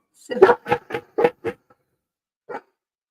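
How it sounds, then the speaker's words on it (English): A dog barks five times in a quick, fairly loud run, then falls silent before one last bark. "Stop barking."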